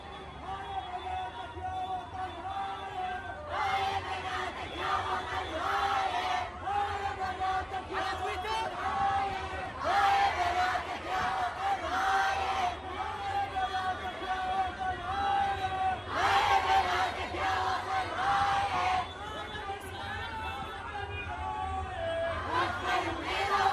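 A large women's march in central Baghdad's Tahrir Square during the October revolution protests, a dense crowd chanting slogans in rhythmic waves of many voices, loud and continuous throughout.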